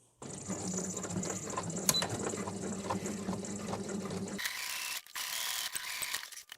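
Sewing machine running steadily with a fast, even mechanical chatter while stitching the seam of a child's circle skirt, close and continuous, shifting to a brighter, thinner whir near the end.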